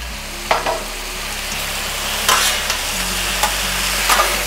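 Steak stir fry with vegetables and sauce sizzling steadily on a Halo Elite4B griddle, with a few scraping clinks of a spatula stirring the food; close and continuous, no voices.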